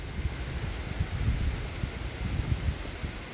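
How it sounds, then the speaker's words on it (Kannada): Strong gusty wind blowing outdoors in a village, a continuous low rumble of wind buffeting the microphone with rustling bursts rising and falling throughout, no voices. "ತುಂಬ ಗಾಳಿ ಉಂಟು ಇವತ್ತು ಸಂಡೇ."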